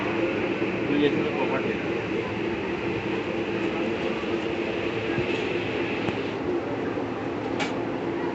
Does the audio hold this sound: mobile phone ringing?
no